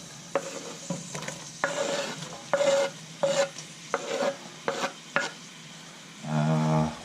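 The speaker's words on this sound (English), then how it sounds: "So let's add one onion that I've just chopped up." Chopped onion dropped into melted butter in a pan for Hungarian creamy mushroom soup, stirred in a steady rhythm of scraping strokes over a low sizzle, ending with a brief louder rattling scrape.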